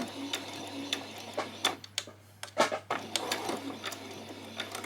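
A sewing machine runs a back stitch on a peasant top, giving short bursts of quick mechanical ticking and whirring separated by brief pauses, fairly close and moderately quiet.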